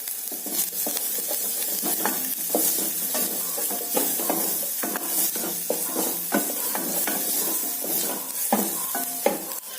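Garlic frying in a pan during tomato soup preparation, a steady dense sizzle with scattered clinks and stirring scrapes running throughout, close and fairly loud, with no talking.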